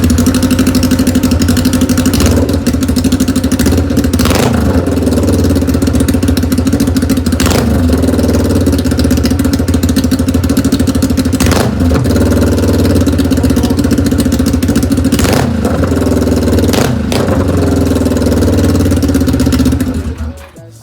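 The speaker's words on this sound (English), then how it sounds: "here's what it sounds like with no mufflers, just completely straight pipe" Kawasaki Ninja street fighter build running on a completely straight pipe with no mufflers: a loud, steady idle with an uneven, clattering beat and a few short blips of revving, close and continuous.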